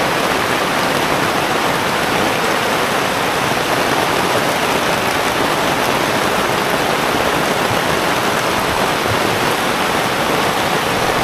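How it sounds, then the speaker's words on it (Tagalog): Heavy rain pours down without pause, a dense, loud, even roar of hissing water with no voices. "Pagpapakain na sana kami ng isda kaso sobrang lakas ng ulan."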